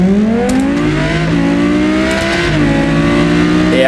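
A modded MK3 Jetta in a BeamNG racing game accelerates hard, its engine revving loud and continuous through rising gears with brief shift dips.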